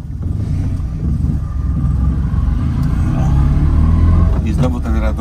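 A Fiat 126p's small engine clatters loudly while the car is driven, giving a steady, close rumbling drone that swells slightly as it runs.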